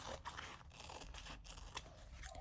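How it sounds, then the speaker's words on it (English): Scissors snip through a piece of leather, a series of close crunchy cuts coming one after another in quick succession. "I'm going to cut a piece of leather"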